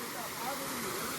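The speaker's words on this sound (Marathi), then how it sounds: "धबधबो" Water pours over a village dam in a steady, faint rushing hiss with no breaks, heard alone.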